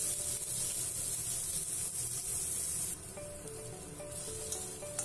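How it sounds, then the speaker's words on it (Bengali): Chopped onion, garlic and cumin fry in a pan for dal, giving a steady, soft sizzling hiss that runs unbroken throughout with no voices. "পেঁয়াজ মশলাটা সুন্দর করে ভাজা হচ্ছে"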